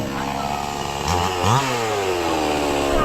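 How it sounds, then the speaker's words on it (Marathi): A chainsaw roars steadily, its engine pitch dipping and rising as it bites into a large roadside tree, loud and close, with no voices. "तो झाड तोडतोय बघा मशीनने तोडतोय"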